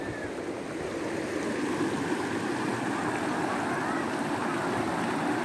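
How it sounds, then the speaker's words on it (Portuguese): Water rushes over the Araras reservoir spillway near Cariré, a loud, continuous roar of torrent that stays steady and close throughout. "Olha só aqui a força da água."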